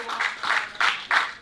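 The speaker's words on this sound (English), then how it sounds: "And the applause just doesn't stop." Audience applause for three comedians called back onstage at a comedy show, steady bursts of clapping swelling and dipping in waves, fairly close and without talk.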